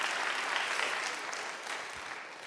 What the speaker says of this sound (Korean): 우리 다시 한번 장병들에게 박수 한번 해주시죠